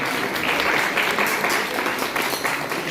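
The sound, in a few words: audience applause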